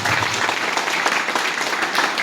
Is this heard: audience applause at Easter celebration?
yes